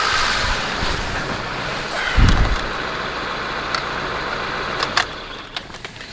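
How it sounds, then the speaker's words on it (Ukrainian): A cold ZAZ 1102 Tavria petrol engine idles steadily on choke at a low rumble, with a few brief knocks and clicks over the constant hum. "Ось так добре працює двигун"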